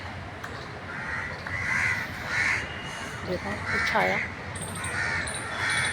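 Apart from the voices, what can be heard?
birds chirping, crows cawing outdoors on a sunny winter day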